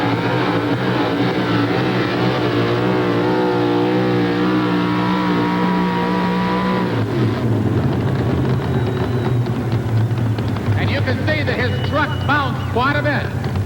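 Pulling truck Gone Bananas roaring down a truck-pull track at a 1988 Memphis event, a loud sustained engine with shifting revs that dominates throughout, with announcer talk over it.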